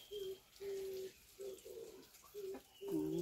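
A dove coos at a shop in a quiet, faint series of soft hooting notes, four or five short calls separated by brief pauses.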